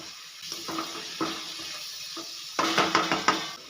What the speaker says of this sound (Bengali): আদা ও রসুন বাটা দিয়ে দিলাম এক চা চামচ একসঙ্গে খুব ভালো করে এবার কষিয়ে নেব